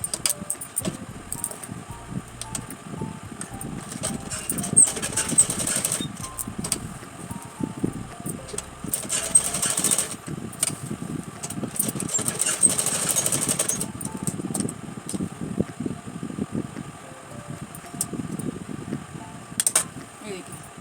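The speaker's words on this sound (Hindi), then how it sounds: "इस कोने पे हमने इसे तिरछा रखा और यहाँ पे हम सिलाई कर देंगे।" A sewing machine stitches a Rajputi kanchali, running as a steady, close whirring rattle for the whole stretch, with brief louder bursts of motor noise in the middle.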